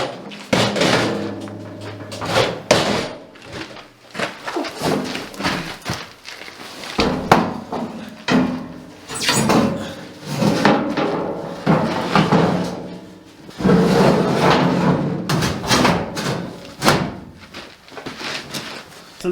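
A heavy welded steel fuel tank of about 120 liters, built for a Cummins-swapped Ford Ranger, is rolled over. It makes loud, close, repeated hollow thunks and scrapes in irregular bursts.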